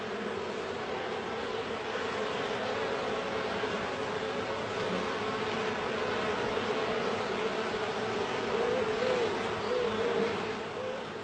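Honey bees inside a hive make a dense, continuous buzzing drone that stays steady and fairly loud throughout, with no speech.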